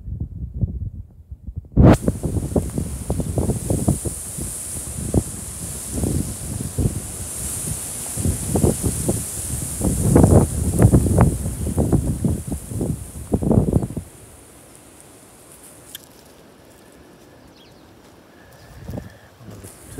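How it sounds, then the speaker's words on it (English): Strong gusts roar and buffet against the microphone for several seconds, with rustling foliage in a walled garden, before easing into a calmer, quieter outdoor background. "Very windy today."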